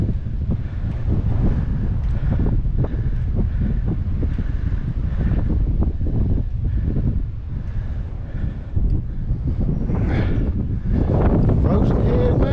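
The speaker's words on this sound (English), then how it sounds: "Oh, it's windy. Yeah. Ooh. Really windy." Strong wind blows across Frozen Head mountain, a heavy, steady roar buffeting the microphone with gusts that rise and fall, close and loud throughout.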